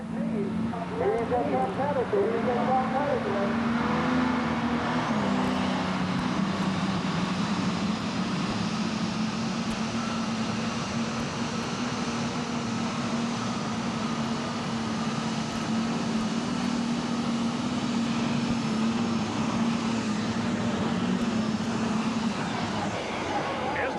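An IH 1486 tractor running "Red Line Fever" makes a pass at a tractor pull in Lexington, Alabama, its engine holding a loud, steady roar for the whole stretch while an announcer talks over it.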